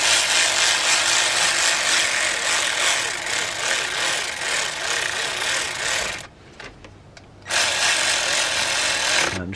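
A power tool drives two 10mm bolts into the coolant flange of a BMW N52 engine. It makes a loud, steady whirring buzz that cuts out briefly after about six seconds, then resumes at full strength.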